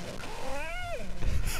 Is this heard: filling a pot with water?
no